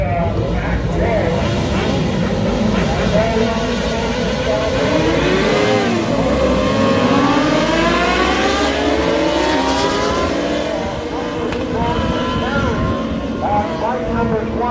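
Racing motorcycles launching from the start of a circuit race in Ontario, Canada, a loud dense blend of engines revving and rising in pitch as they pull away, with an announcer talking over the roar.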